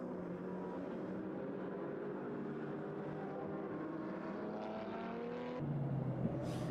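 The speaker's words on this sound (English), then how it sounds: "let's watch the car and perhaps listen to the car a bit as well, see if we can pick up on anything. Let's listen as it comes down towards us." A GT race car at a winter series circuit event drives toward the listener, its engine a steady, layered drone that builds and grows slightly louder near the end, with no talk.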